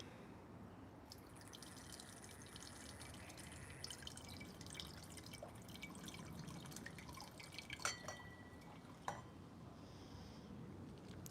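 Dry wine poured from a bottle into a glass, a faint, soft trickle and drip heard close by against a quiet room background, with no speech.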